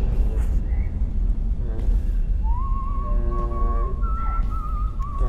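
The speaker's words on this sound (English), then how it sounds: "Don't whistle at me." An eerie, wavering whistle rises and holds in an indie horror video game about a cursed VHS tape, drifting over low rumbling ambience with a few thumps.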